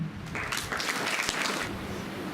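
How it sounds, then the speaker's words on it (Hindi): Schoolchildren at a yoga day assembly applaud themselves, a dense, even patter of many small hands clapping together in a hall, fairly steady and moderately loud. "हम स्वयं के लिए तालियां बजाएंगे"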